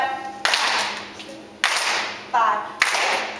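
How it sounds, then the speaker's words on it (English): Dancers at a flash mob team practice run through a step-and-clap routine, four sharp claps landing at uneven intervals, each ringing out in a reverberant room with faint voices behind. "we're going to start out by step and clap"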